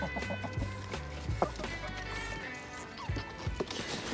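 Hens clucking in a poultry yard, several birds giving short irregular clucks and murmurs near the microphone, with a deeper low drone underneath and a few sharper calls breaking through.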